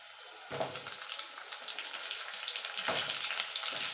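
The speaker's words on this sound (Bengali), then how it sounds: "আলুটা একটু ভাজা ভাজা করে নেবো" Potatoes fry in a pan with spices, sizzling in a steady crackling hiss that swells with two louder bursts as they are stirred or moved, close and without talk.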